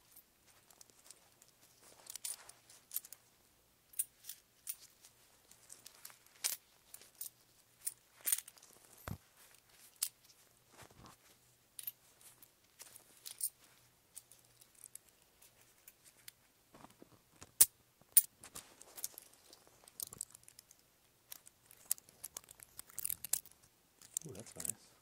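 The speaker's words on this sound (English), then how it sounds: "Rubbing coins." Coins rubbed and clinked together close to a binaural microphone, giving scattered, quiet metallic scrapes and ticks at an irregular pace over near silence.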